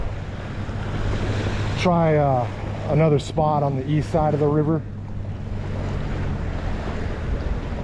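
Strong wind buffets the microphone with a constant rushing roar by a river bridge at a fishing spot, as someone talks over it.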